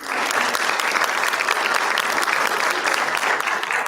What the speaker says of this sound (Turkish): şimdi alkışların en büyüğü gelsin lütfen